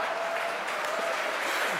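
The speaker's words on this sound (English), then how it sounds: "And there's lots of applause from the hall." A hall full of people applauds during a security conference session, the clapping steady and dense throughout, heard from a distance as a continuous wash of many hands.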